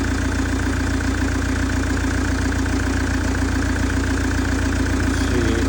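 A Hyundai Terracan 2.9 turbo diesel engine idles steadily and loudly up close, with a constant low rumble and a faint knocking texture throughout.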